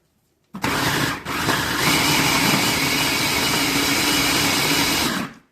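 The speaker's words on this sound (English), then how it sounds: "We're going to do this in batches just so that we don't accidentally overfill the food processor" A food processor whirs at a steady high speed while chopping a chicken nugget mixture, a loud continuous motor drone that starts abruptly, briefly dips, then holds for several seconds.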